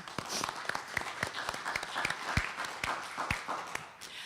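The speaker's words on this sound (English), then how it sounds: "Let's give a round of applause, please, for our panelists today" Audience applause for panelists at a public school funding event, a scattered room of claps with individual hand strikes standing out, moderately loud and continuous.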